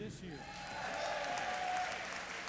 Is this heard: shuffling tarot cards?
no